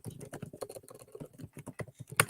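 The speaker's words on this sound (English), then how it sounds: "He's typing. I am typing. I am indeed typing." Soft, rapid keystrokes on a computer keyboard patter irregularly, quiet and close, with one sharper clack near the end and no speech over them.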